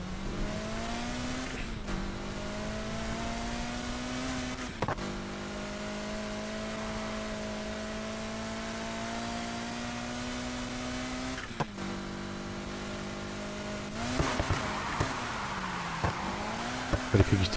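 A car driving in the racing video game Need for Speed Heat, with a steady engine whine that rises and falls through gear shifts, a few brief clunks, and rougher engine noise near the end. Faint talk can be heard at times.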